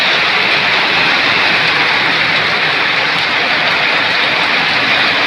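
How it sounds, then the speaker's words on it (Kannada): Heavy rain pouring outside, a dense, constant loud hiss of downpour filling the whole stretch without pause and without voices. "ಸಿಕ್ಕಾಪಟ್ಟೆ ಮಳೆ ಇದೆ ಹೊರಗಡೆ"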